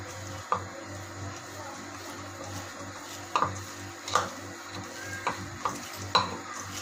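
Chapli kabab mixture is mixed with spices in a bowl, giving soft squelching and faint scraping under a low hum, punctuated by several light clinks of a utensil against the bowl.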